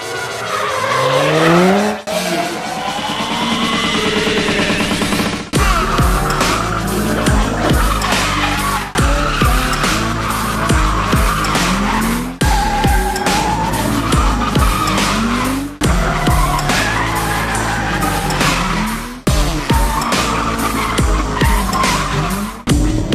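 A Toyota 1JZ-engined car drifting, its tires squealing loudly and continuously over a roaring, revving engine, with repeated throttle lifts and bursts at a few-second rhythm and no talking.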